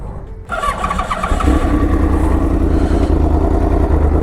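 A 2013 Yamaha R1 with a crossplane inline-four engine starts up: a brief starter whirr, then the engine catches and settles into a loud, steady, slightly uneven idle close by.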